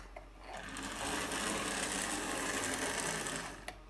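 Märklin model train switching into reverse after a transformer repair: a steady mechanical motor whir that hums on at moderate loudness, with a brief click near the end.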